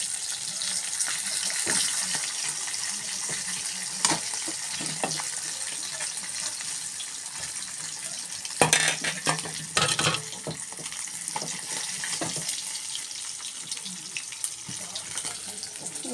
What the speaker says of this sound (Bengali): এটার মধ্যে আমি মাছগুলোকে রেখে দিচ্ছি, কারণ এগুলো মাছ একটু লাল লাল করে না ভাজলে ভালো লাগে না